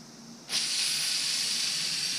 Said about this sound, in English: I sprayed more carb cleaner in there